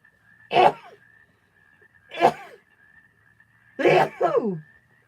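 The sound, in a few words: sneezes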